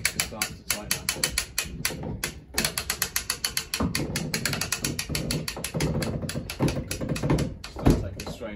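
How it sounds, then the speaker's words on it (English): Ratchet pawl of a boat trailer winch clicking rapidly as it releases rope during a single-handed boat launch, dense repeated clicks close up, some mechanical clunks and handling noise. "So we're just sitting on the winch now, and then let it go back until the rope starts to tighten up."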